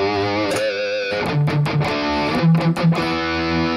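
Distorted metal guitar tone shaped by a Mooer GE-1000 EQ pedal, played alone in a short phrase of sustained chords and palm-muted chugs at moderate loudness.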